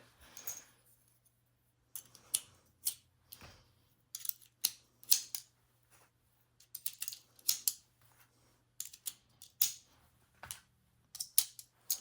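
Cartridges being loaded into a Russian Mosin-Nagant M91 rifle, five rounds at a time: a run of sharp metallic clicks and clacks in irregular bursts, close and fairly quiet, with brief pauses between.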